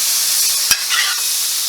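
Butter sizzles loudly on a hot griddle for hibachi fried rice in a dense, continuous hiss, with one sharp spatula scrape partway through.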